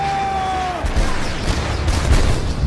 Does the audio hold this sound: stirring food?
no